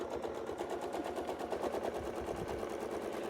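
A quilting machine double-stitching a design, making a fast, steady mechanical chatter that runs continuously at a moderate, slightly distant level.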